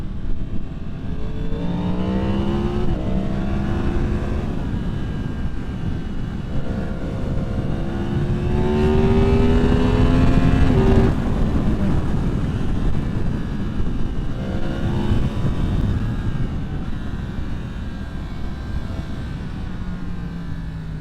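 2023 Yamaha MT-10 engine under throttle, its tone climbing in repeated smooth rising sweeps as the bike accelerates, with heavy wind noise throughout and no speech.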